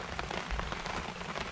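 Light rain falling at a forest campsite, a steady soft patter of drops on surfaces, close and continuous.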